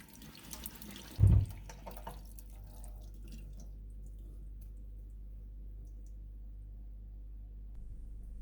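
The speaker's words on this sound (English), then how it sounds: "Wash the papaya thoroughly with soap and water." A papaya is washed under a running kitchen tap: a quiet, steady stream of water with a brief splash near the start and no talking.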